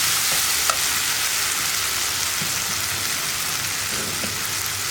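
Salted masala bread mixture is stirred in a pan, with a dense, steady frying hiss throughout, a few faint spoon scrapes and a small click near the start, close and without talk.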